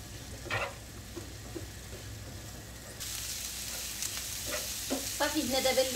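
Green beans sauté in olive oil in a pan, a soft continuous sizzle that brightens midway, with occasional scraping stirs and light clinks near the end.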